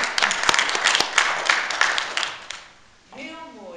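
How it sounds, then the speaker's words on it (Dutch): Wedding guests applaud the bride and groom, a short burst of lively clapping with a few sharp nearby claps that dies away after about two and a half seconds, followed by a speaking voice. "Mag ik een applaus voor het bruidspaar"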